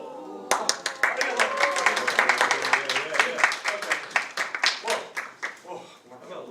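Audience applause breaks out after a three-ball juggling trick, a burst of quick, dense hand clapping from a crowd that swells, holds for several seconds, then thins out toward the end.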